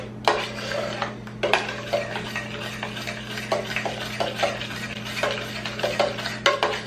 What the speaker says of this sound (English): So I add that to it and stir it around